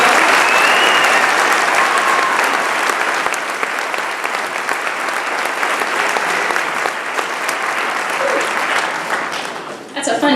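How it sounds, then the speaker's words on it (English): An audience gives a school freshman band a round of applause. Dense, even clapping runs steadily for about ten seconds and tapers slightly near the end. "Give them one more round of applause before they go"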